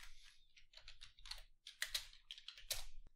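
Quiet, close typing on a computer keyboard while coding, a quick irregular run of light key clicks in short bursts.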